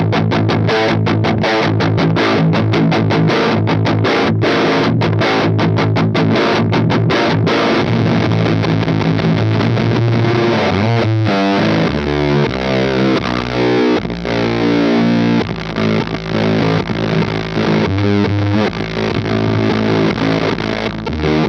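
Heavily distorted riffing on a Schecter seven-string guitar with a Fishman pickup, played through a Marshall Origin 20 amp, loud and continuous with chugging palm-muted bursts early and sustained chords later.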